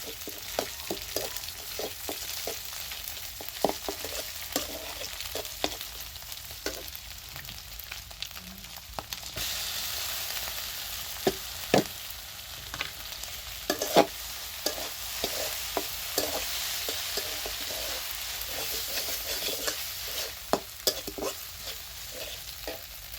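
An egg fries in a pan with a soft continuous sizzle, broken by frequent light clicks and scrapes of stirring at irregular intervals. No voice is heard.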